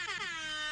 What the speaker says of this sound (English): I have a hip hop air horn